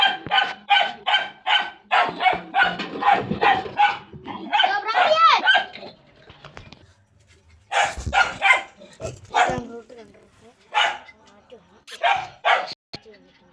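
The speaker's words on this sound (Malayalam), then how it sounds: "പട്ടി ഇച്ചിരി കുറെ സീനാണ്" A dog barks repeatedly in quick bursts, close by, with a short whimpering stretch and quieter pauses between volleys.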